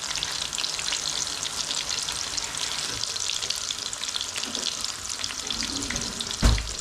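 Fish and onion pakoras frying in hot oil, a steady loud crackling sizzle throughout with a brief thud near the end.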